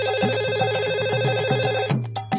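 A phone ringtone plays loudly in a steady repeating electronic pattern, cutting off briefly near the end before sounding again.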